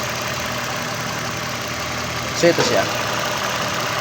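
A running car engine idles steadily while a vacuum-leak tester is used on a small intake hose, a constant mid-low rumble with a couple of brief clicks and someone talking over it.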